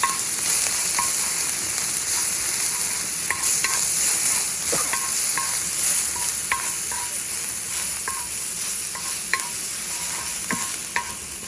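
Red pepper flakes, garlic and a scallion sizzle in olive oil in a wok, a loud, even hiss held throughout, with regular light clinks and scrapes of a utensil stirring, no voices present.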